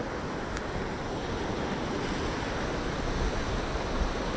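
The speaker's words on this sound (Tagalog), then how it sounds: "Sa lakas ba naman ng agos na yan, may alon" Sea waves wash against the shore amid a strong current, a constant broad surf roar mixed with wind buffeting the microphone, close and loud with no voices.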